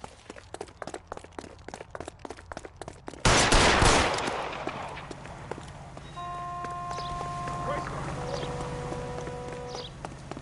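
A single loud, close gunshot in L.A. Noire rings out and decays into a lingering tone, preceded by a quick run of rhythmic clip-clop like hooves or footsteps, with no talk.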